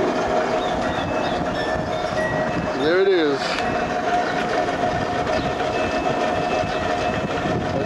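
A homemade drill press motor runs outdoors in the wind, giving a steady, loud hum with a faint tonal whine throughout and a brief spoken voice near the start.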